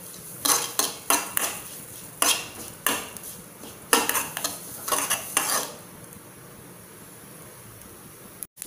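Sesame seeds roasting in a pan over a medium gas flame, stirred with a utensil that makes a series of sharp, close scraping and clinking strokes, then the pan falls quiet with only a faint hiss.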